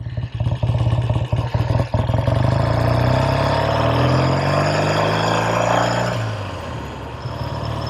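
A 1968 Triumph Daytona 500 motorcycle engine revs loudly up close, pulsing at first, then climbing steadily in pitch as the bike accelerates before easing off near the end.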